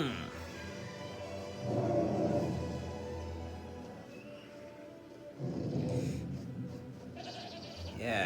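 Sheep bleating in a dragon video game, a few wavering nasal bleats rising over a low background rumble, separated by short pauses.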